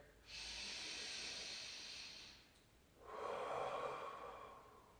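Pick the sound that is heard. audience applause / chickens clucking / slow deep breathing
slow deep breathing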